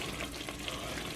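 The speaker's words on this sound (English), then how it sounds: "You see how your soup is bubbling?" Egusi soup with catfish bubbling and sizzling in a pot on the heat, a constant dense crackle and simmer close up, with no voices.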